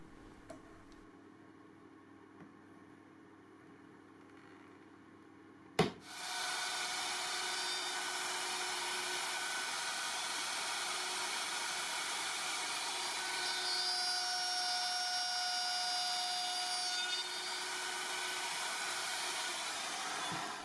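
A handheld wood router guided along stop blocks cuts away remaining waste wood, starting with a sharp click and then a loud, steady high-pitched whine that runs unbroken for about fifteen seconds.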